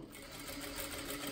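Sewing machine stitching a seam on a gathered child's dress, a fast even whirring hum, close and fairly quiet, lasting just over a second.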